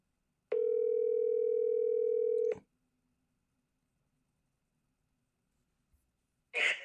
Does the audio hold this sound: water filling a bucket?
no